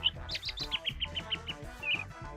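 A comedic bird chirping sound effect in a Honkai: Star Rail program plays in place of cursing, a rapid run of bright, high tweets stacked closely together and ending in a longer trill, heard over a light music bed.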